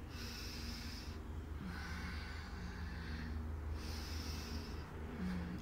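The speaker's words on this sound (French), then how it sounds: "J'inspire et j'expire." Slow, audible nasal breathing during a restorative yoga stretch for the psoas and adductors, with long drawn inhales and exhales repeating close to the mic over a steady low background.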